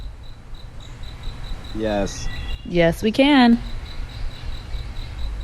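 Crickets chirp at night in a steady, evenly spaced pulsing trill that runs through the whole stretch, while voices briefly speak over it in the middle.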